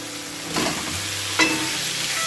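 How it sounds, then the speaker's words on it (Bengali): Boiled, fried potatoes are stirred into cooked masala for a drumstick curry, a close steady sizzle broken by two quick spatula scrapes against the pan. "মশলা আলু আর মশলা একসাথে আমি মিশিয়ে নিচ্ছি"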